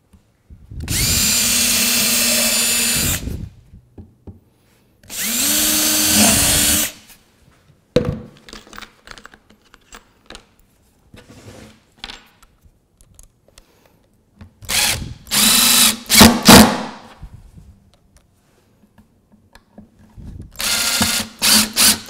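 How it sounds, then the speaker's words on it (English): A power drill driving pocket screws into wood for an octagonal picnic table: two long steady whirring runs, then after a pause a burst of short revving pulls and a final run, loud and close. "I'm going to run 2 more pocket screws in here just to hold it in place"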